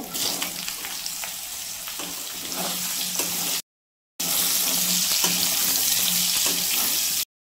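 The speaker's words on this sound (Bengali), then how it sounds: "ঝিঙ্গাটাকে ভেজে নিব" Ridge gourd frying in a pan, a continuous loud hiss and crackle of sizzling oil with occasional stirring knocks, broken by a brief silent gap midway.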